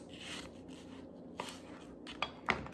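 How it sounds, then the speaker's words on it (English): A small knife slices an apple into thin pieces: a few soft, quiet cuts and light taps against a board, spaced apart over near silence. "Cut out the core and then make thin,"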